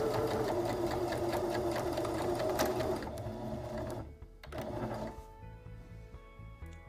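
A sewing machine hems the edge of a cloth face mask with a HEPA filter pocket, running in a loud, rapid, steady stitching burst for about three seconds, then slowing to softer, intermittent whirring bursts.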